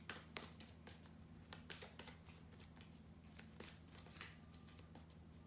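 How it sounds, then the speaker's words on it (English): Tarot cards are shuffled in repeated soft riffles and taps, quiet and close, over a low steady background hum. "This is a very long shuffle"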